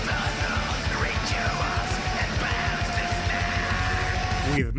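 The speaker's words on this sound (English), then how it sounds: "the growling here is so extreme that neither I nor even the most dedicated fans in the comments could break those screams down into actual words" Black metal track with extreme growled screaming vocals over pounding rapid drums and dense distorted guitars, the harsh rasping voice sustained and wordless throughout.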